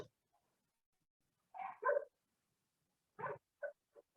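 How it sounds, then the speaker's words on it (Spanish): Several dogs bark outdoors at a moderate distance during a class, in two short bursts of overlapping barks followed by a few single yips, with quiet gaps between. "doy clase y ladran los perros"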